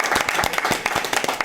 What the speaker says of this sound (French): On va applaudir comme les gens du quartier parce que nous sommes contents.